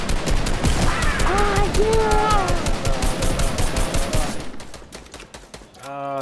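Rapid automatic gunfire in Fortnite's Red vs Blue Lava Island mode as players shoot enemy structures, loud dense bursts with a voice talking over them, then the shooting thins out toward the end.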